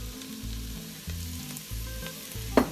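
Leftover spiral ham with garlic sizzles and fries in an Instant Pot on sauté, a steady close crackle under a low pulsing hum, with a sharp clink near the end.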